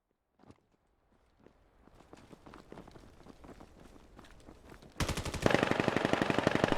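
Video game gunfire in Call of Duty: light footsteps and scattered shots build up, then a sustained, loud burst of rapid automatic fire fills the last two seconds.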